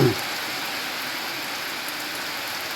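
Heavy monsoon downpour around a school campus, a dense, steady hiss of rain close and loud, continuous without pauses.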